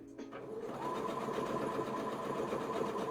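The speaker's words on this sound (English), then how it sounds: "back stitch before the first pin" Sewing machine stitching steadily on a bag seam, back stitching at the start, a continuous close mechanical whir after a brief pause at the start.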